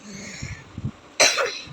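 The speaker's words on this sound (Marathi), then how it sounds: "पाण्यात खूप खेळतो ना म्हणून त्याला खोकला झाला" A child coughs three times, close by: two soft, low coughs, then a sharper, louder one, with quiet pauses in between.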